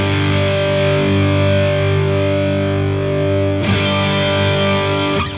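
A heavily distorted electric guitar chord rings through a Kemper amp with the clarity knob adjusted, sustaining loud and close, then changes tone brightly partway through before ending.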